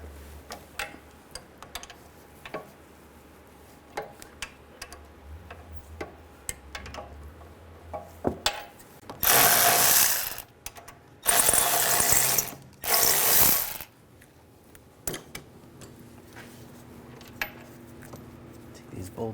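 Ratchet wrench with an 18mm socket loosening brake caliper bolts on a 2009-2010 BMW 535i xDrive, with close sharp clicks and short loud bursts of rapid pawl ticking, and a voice talking intermittently.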